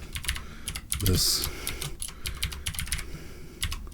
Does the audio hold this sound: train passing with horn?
no